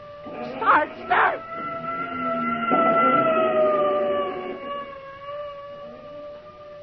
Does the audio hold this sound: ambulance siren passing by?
yes